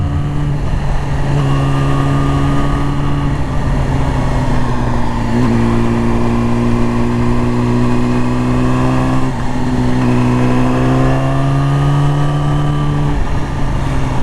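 A Yamaha R6 motorcycle ridden through a canyon in third and fourth gear: a loud, steady engine drone with pitch rising and falling through gear changes, over constant wind rush.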